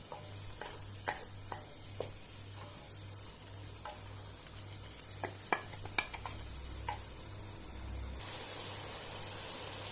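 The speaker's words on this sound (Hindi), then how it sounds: "इतने में ये मसाला अच्छी तरह भुन जाएगा।" Masala roasts in a pan for a cauliflower and meat curry, a soft sizzle under a low hum with scattered sharp scrapes and taps of a spoon stirring, near and fairly faint, with no talking.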